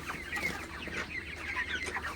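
Several broiler chickens suffering from a cold cluck close by in a steady, overlapping chatter, with a low hum underneath throughout.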